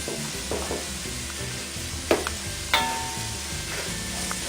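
Shallots sizzle in a pan while flour is stirred in, the start of a sauce for langoustines. A steady hiss carries on throughout, broken by a couple of sharp utensil knocks against the pan.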